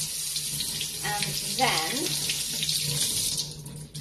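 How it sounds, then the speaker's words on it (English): Tap water runs steadily into a sink to wet a flannel, a continuous hiss and splash under a brief spoken phrase in the middle. "you get your flannel, and you wet the flannel, hot or cold water, it doesn't make a difference"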